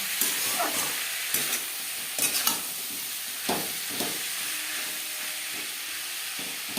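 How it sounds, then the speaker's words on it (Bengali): Chopped onion and green, unripe tomato frying in a pan over high heat, with a steady sizzle and hiss broken by the scrape and clack of repeated stirring, close and with no voices. "পেঁয়াজের সাথে টমেটো বেশ ভালো করে মিক্স করে দেবো"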